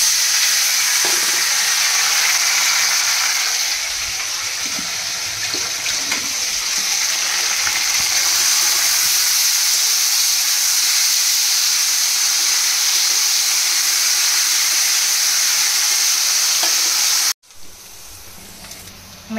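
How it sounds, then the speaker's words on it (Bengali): Eggs frying in a pan give off a steady, even sizzle and hiss that stays close and constant, then drops sharply near the end to a quieter, fainter sizzle. "এখানে ডিমগুলো ভেজে নিচ্ছি।"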